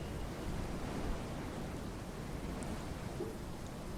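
Steady rain falls in the video game Castle Dornstein, a constant, even hiss of downpour with no voices and only a few faint drips standing out.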